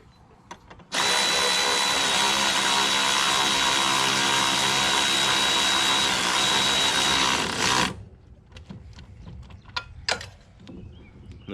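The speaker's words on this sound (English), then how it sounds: "And we'll tighten the nut up." A power tool whirs loudly and steadily for about seven seconds while tightening a nut on a John Deere 920M mower, then stops, leaving faint clicks and handling noises.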